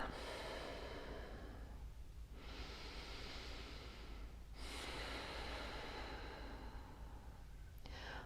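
Slow, deep breaths during a yoga session for low back pain: long, airy inhales and exhales alternating steadily, close and soft, with no talking.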